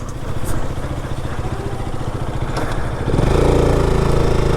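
A motorcycle engine running close by with a steady mechanical clatter, fitted with new bearings, its pitch lifting and growing louder near the end.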